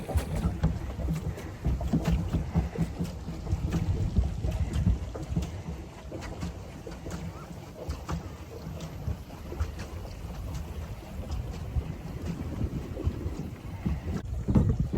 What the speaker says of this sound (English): We're boating.